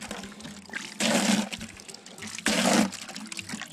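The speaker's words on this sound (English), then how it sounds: "you'll see this is like a brown water coming out" Muddy brown water from a hand pump on a hand-dug shallow well gushes out in two loud bursts, one per pump stroke, with quieter dripping between.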